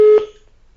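A brief electronic tone on a telephone line during a radio call-in, cutting off sharply as the line disconnects, then near silence.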